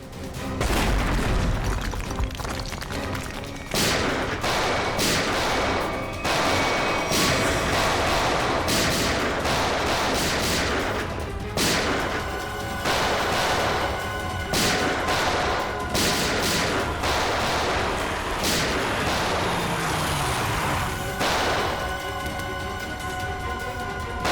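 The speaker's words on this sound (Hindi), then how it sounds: "अब ब्लास्ट शुरू हो चुके हैं।" Explosions and gunfire from a CID crime drama episode, a dense, loud barrage of sharp shots and booms packed tightly across the whole stretch, with no pauses.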